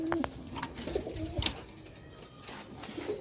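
A slate-grey pigeon kept by a fancier coos in short repeated bursts, close and moderately loud, with scattered chirps and faint background noise and no talking.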